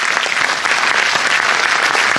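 An audience applauds at a film premiere and retrospective screening at a cinematheque, a dense, steady wash of clapping that fills the hall without break.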